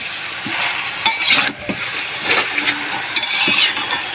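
Spinach is stirred and fried in a pan with a strong, steady sizzle. Repeated scraping strokes and occasional clatter of the utensil against the pan sound close by, and no one speaks.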